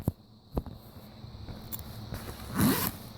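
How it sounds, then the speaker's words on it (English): A backpack zipper being pulled along its track, a short rasping zip rising near the end after a few scattered clicks and handling taps, close and fairly quiet. "now let me try to zip it"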